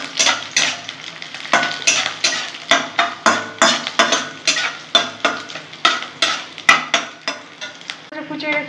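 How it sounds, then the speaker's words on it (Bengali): Green chilies frying in a pan for a pat saag (jute leaf) bhaja, heard close up as a steady run of rhythmic spatula scrapes and knocks over a light sizzle. "কাঁচা লঙ্কাগুলো দিয়ে ভেজে নেবো একটু।"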